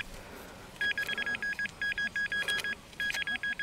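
A metal detector's pinpointer gives rapid rhythmic beeps in three bursts of evenly spaced pulses while searching for a coin during a dig in former East Prussia, sharp and close over soft outdoor background.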